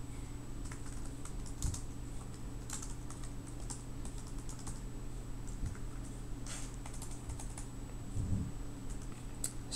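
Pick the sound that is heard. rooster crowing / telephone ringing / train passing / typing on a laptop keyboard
typing on a laptop keyboard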